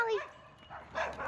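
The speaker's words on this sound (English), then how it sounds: "These dogs are trying to get us with Molly." Dogs bark and yip in short excited bursts close by, mixed with people talking over them outdoors.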